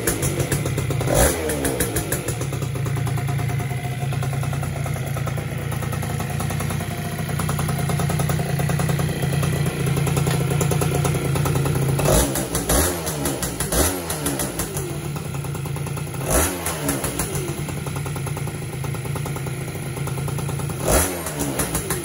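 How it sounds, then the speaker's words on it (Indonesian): Freshly restored Yamaha F1ZR two-stroke motorcycle engine running rough and heavy, a steady loud drone with repeated blips of revving throughout, no voices. "Ini masih berat banget suara mesinnya karena kotorannya rada seret."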